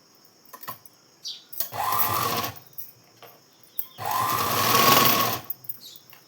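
A sewing machine stitches a blouse in two short, close, humming runs of about a second each, separated by faint clicks and handling noises.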